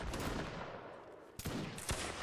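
Musket volley fire in a Napoleonic Wars line-battle video game: a rolling rumble of battle, then two sharp, somewhat distant cracks of massed muskets about half a second apart.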